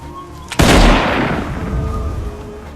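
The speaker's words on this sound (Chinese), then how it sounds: "领队的军官只好端枪开始射击" A single loud gunshot from an officer firing at a fleeing deserter in a film booms close by and rolls off into a long fading echo.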